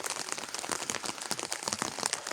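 Rain falls steadily on a farm on an autumn morning, a dense, close patter of drops hitting surfaces, continuous and fairly quiet with no other sounds.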